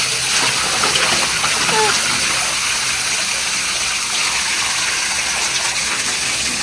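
Water gushing out strongly during washing, a loud, steady rushing flow filling the whole stretch, with faint voices underneath.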